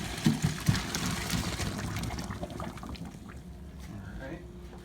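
Boiled water and potatoes from a seafood boil poured into a sink strainer, a splashing gush that trickles off and fades over a few seconds, with a voice speaking over it.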